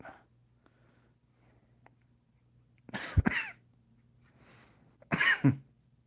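Two close coughs, one a few seconds after the other, in an otherwise quiet room.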